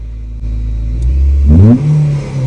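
A handmade replica of a Toyota Supra MK4 starts up with a loud close rumble and then revs once, rising in pitch and falling back to a steady idle.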